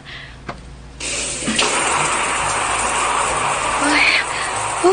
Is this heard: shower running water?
yes